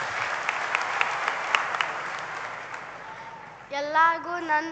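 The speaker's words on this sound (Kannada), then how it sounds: "ಈ ಮಕ್ಕಳ ಪ್ರೀತಿಗೆ ಬರಲಿ ಚಪ್ಪಾಳೆ." Audience applause at a Kannada book launch event honoring the late Umesh Katti, a steady wash of clapping that fades out before a voice begins speaking into a microphone.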